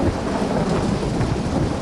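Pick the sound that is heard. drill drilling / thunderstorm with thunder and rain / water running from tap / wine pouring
thunderstorm with thunder and rain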